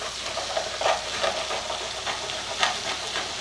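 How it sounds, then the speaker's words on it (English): Onions and garlic fry over high heat in a pan with leftover bacon residue for split pea soup, giving a steady hissing sizzle with soft stirring scrapes and small crackling pops throughout. "cooking all the onion and garlic. So turn this on to high just to get it started"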